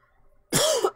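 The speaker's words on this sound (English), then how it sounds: "Sorry for the coughing fit." A single harsh cough from someone with a lingering cold bursts out after a quiet moment, loud and close, with a rough throaty edge.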